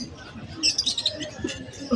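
Birds chirp in short bright bursts at a pet market in Malabon, with a busy background of crowd murmur and low market noise.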